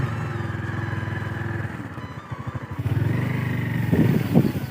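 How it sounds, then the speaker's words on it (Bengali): A motorcycle engine putters steadily nearby as it rides along a river char in the Padma, its throbbing pulse shifting with speed and rising into louder revving toward the end. "সেই বাইকে চেপে শুরু হলো চরের পথে আমাদের পথ চলা"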